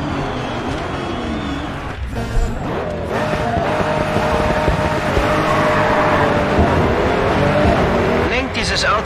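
Race car engine roaring at high revs in the Grid 2 racing game, with tires squealing and skidding through a hard turn, loud and continuous as a voice talks over it.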